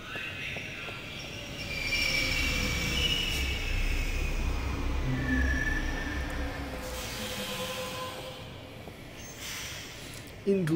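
A metro train in the video game The Longest Journey runs steadily with a loud rumble and wheel squeal, a continuous rolling roar that swells over several seconds.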